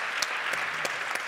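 Audience at a regional conference panel on users' rights clapping together, a dense steady applause from a room of people.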